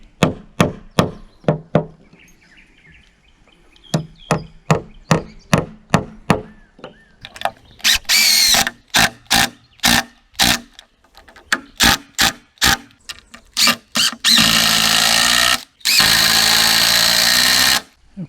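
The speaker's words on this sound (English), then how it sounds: "I'm anchoring these down with 3-inch torque screws." Impact driver sinking 3-inch torque screws into wooden rafters on a sawmill shed, a rapid series of loud rattling hammer bursts that lengthen into sustained driving runs, close and dominant with no talk.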